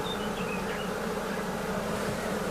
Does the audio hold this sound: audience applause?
no